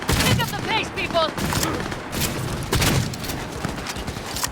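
Rapid gunfire in the video game Cyberpunk 2077, dense bursts of shots and booms in quick succession, loud and close, with people talking over the firefight.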